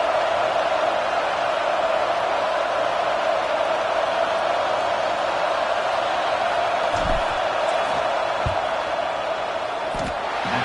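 Steady crowd roar fills a college football stadium in the CFB26 video game during a field goal attempt, a dense, even wash of noise with a few faint thumps and no clear peaks.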